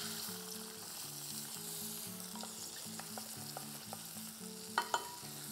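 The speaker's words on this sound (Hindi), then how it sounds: "बटर मेल्ट हो गया, इसमें हम डालेंगे ग्रीन पीस" Green peas sizzling in melted butter in a pan or kadhai, a soft, steady frying crackle with a few sharp pops and clinks near the end, close and fairly quiet, no voices.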